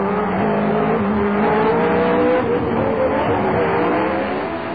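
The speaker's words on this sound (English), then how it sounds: "Jean-Pierre Jabouille goes past in the Renault Turbo." Renault Turbo Formula 1 car driving past on the Long Beach street circuit, a steady loud engine drone with shifting harmonic pitch that swells and holds, close to the microphone.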